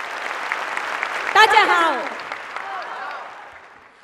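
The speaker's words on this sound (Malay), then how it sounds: "satu tepukan gemuruh untuk anda semua" Thunderous applause from the audience at a recognition meeting, a broad steady wash of clapping filling the room, with a voice calling out briefly over it midway before the clapping slowly fades.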